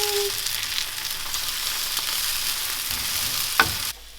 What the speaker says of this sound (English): And I'm just going to let that cook. Give the onions a bit of a toss.